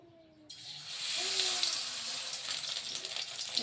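Bottle gourd leaves dipped in gram-flour batter hit hot oil over a low flame, and a steady hissing sizzle starts abruptly and keeps going close by, with faint faint tonal sounds underneath.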